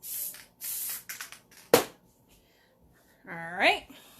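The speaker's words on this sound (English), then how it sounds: "I use Loctite. Spray adhesive repositional spray." Loctite repositionable spray adhesive hisses from an aerosol can in two close bursts, followed by a sharp clack and brief rustling. A voice speaks near the end.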